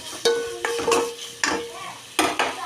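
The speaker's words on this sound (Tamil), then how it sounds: "கிராம்பு பட்டை இதையும் போட்டுக்கலாம் நல்லா நம்ம வணக்கி விட்டுக்கலாம்" A utensil scrapes and stirs shallots with cloves and cinnamon frying in oil in a pan for a country chicken curry, with several close, distinct stirring strokes over a light sizzle.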